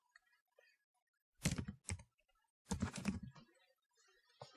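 Soft computer keyboard typing comes in a few short, clustered bursts of clicks, close and quiet, with near silence between them and no talking.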